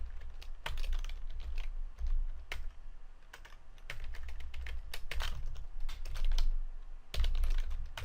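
Someone types on a computer keyboard while coding a C# tutorial, with steady bursts of close, crisp key clicks that pause briefly and resume, with no talking.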